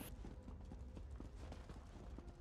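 Horse hooves clip-clop in Elder Scrolls Online, a steady run of soft game footfalls beneath ambient background sound, with no talking.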